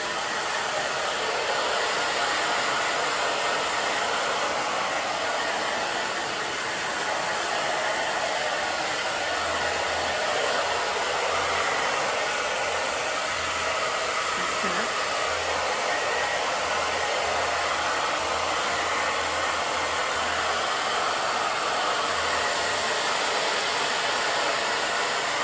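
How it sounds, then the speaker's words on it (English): A hair dryer rough-drying styled hair, blowing as a loud, constant, close whir for the whole stretch without pause or talk. "I'm gonna rough dry."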